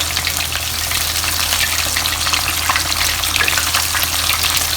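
Pieces of crispy Nam Yu pork, marinated in red fermented bean curd, deep frying in oil over medium heat: a dense, steady, crackling sizzle, close and loud, running unbroken with no voices.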